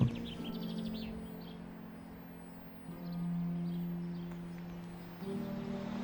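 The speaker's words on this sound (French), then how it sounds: "C'est juste l'eau, les oiseaux." Birds chirping faintly at Aulps Abbey against a quiet outdoor background with a steady low hum, a few short high calls scattered through six seconds.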